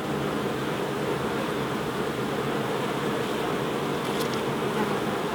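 Honey bees buzzing at an open hive during a beekeeping check, a dense continuous drone heard close and steady throughout without talk.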